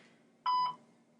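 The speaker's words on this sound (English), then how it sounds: "At the tone, please record your message." A single short electronic voicemail beep sounds after a brief hush, a clean steady tone marking the start of a phone message recording.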